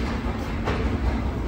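A Moscow monorail train turning around: a steady, loud rolling rumble of the train's running noise with a brief brighter swell midway, continuous and with no talk.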